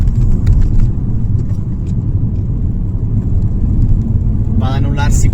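A Ford Focus MK4 ST Line with the 1.0 125 hp mild hybrid engine running in sport mode: a steady low engine rumble heard from inside the cabin, a voice talking briefly over it near the end.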